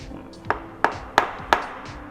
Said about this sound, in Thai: แล้วก็เอาค้อน นะครับ ค่อยๆเคาะมานะครับ